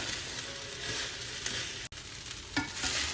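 Rice being stirred into a sizzling pan for arroz con tres delicias, a steady close frying hiss broken by scraping stirs and one brief sharp knock, with no talking.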